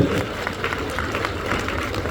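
An audience at a religious sermon bursts into steady applause, a dense wash of clapping from many hands lasting a couple of seconds at fairly close range.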